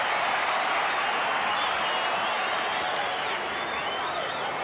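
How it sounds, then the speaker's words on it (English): A rugby league stadium crowd at a 1988 Brisbane versus Parramatta match roars after a tackle, a dense, sustained wall of cheering and applause with whistles rising above it. "Johns and Langer put him down and the crowd roars."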